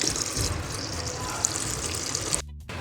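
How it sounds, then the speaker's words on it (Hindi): Milk pours into sweetened water for a chilled drink, a steady close liquid rush and splash that stops abruptly near the end. "सबसे पहले हम डालेंगे दूध।"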